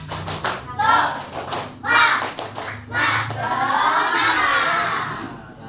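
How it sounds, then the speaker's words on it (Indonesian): Children performing a rhythmic spirit clap chant in a classroom, bursts of group clapping alternating with loud shouted chanting in a patterned rhythm, close and energetic. "Bisa tepuk semangat?"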